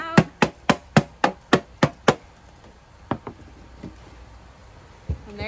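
Onion seeds are pounded out of a vacuum seeder in a quick series of eight sharp, close knocks on a hard surface, followed by a few sparser, softer taps.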